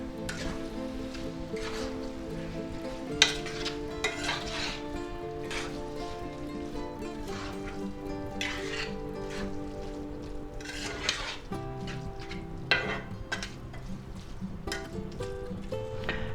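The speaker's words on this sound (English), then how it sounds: "Now we're going to go ahead and add our bean sprouts in there because they're mostly soft, so we'll put them in last, right? Stir them in." Bean sprouts stirred in a hot pan for chicken chow mein, a patter of crackling sizzle with intermittent utensil scrapes and clacks against the pan, close and steady, with faint music beneath.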